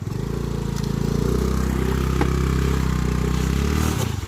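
A motorcycle engine idles and throbs with a heavy, steady low rumble on a rough offroad trail, close and loud, with slight clatter over the drone and no talk.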